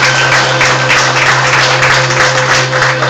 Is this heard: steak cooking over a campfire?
no